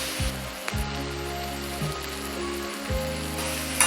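Tomatoes go into a pan of frying onions for prawn biryani, giving a steady, close sizzle with a few soft stirring thumps and a constant low hum underneath.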